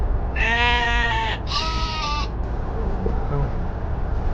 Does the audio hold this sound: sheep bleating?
yes